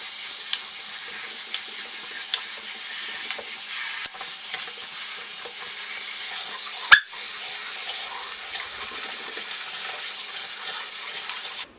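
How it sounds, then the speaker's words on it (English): Tap water runs steadily into a sink over ground meat being rinsed for trail dehydration, a continuous close hiss and splash, with a brief clatter partway through. "you're gonna want to just run the water over it"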